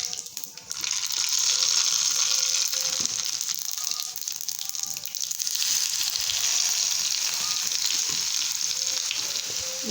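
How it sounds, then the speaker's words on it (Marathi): Mustard seeds fry in hot oil in a pan on a gas stove. A steady, loud, close hiss and crackle runs throughout, with small pops scattered through it. "स्टार्टिंगला आपण मोहरी टाकून देऊ"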